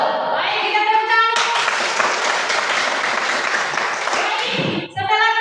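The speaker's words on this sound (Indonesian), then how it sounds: "kita tepuk tangan" Applause from an audience after a school presentation, many hands clapping in a dense, steady roar that swells in and holds for several seconds, with a voice briefly at the start and end.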